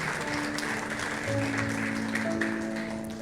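A congregation at a Sunday church service applauds, a steady wash of clapping that holds evenly throughout, with sustained organ or keyboard tones underneath.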